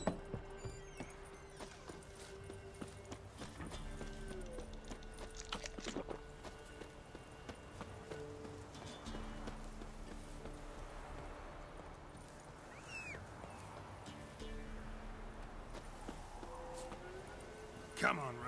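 Hooves of a horse in The Witcher 3: Wild Hunt beat in a steady, repeating clip-clop as it moves along, with game voices and tonal background sounds layered over it.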